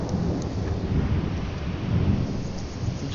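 Thunder in the video game Insomnia, a deep rolling rumble with rain underneath, swelling and easing across a few seconds, low and heavy with no talking.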